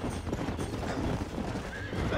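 A horse in a video game whinnies loudly over a steady bed of clip-clopping hooves and game ambience, the neigh rising and falling clearly near the end.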